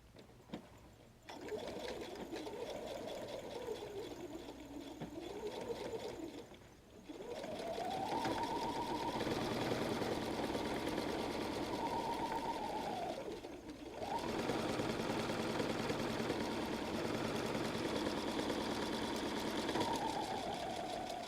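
A sewing machine stitches down the edge of a pocket on a messenger bag, running in three long steady bursts of close mechanical whirring with brief pauses between them.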